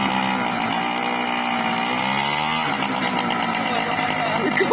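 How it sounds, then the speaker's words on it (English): A 1999 Sym Jet 50cc scooter engine revving, a buzzy two-stroke note climbing in pitch, then dropping and rising again, loud and close with a person talking over it. "so you just rev it and then all of a sudden go"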